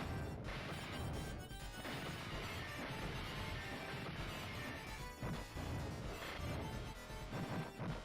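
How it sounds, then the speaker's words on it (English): Glass panes of a bus stop smash in the Final Fight arcade beat-'em-up, dense repeated crashing and breaking impacts piled over loud game music and effects, continuous with no pauses. "I can start going smashing bus stops up now."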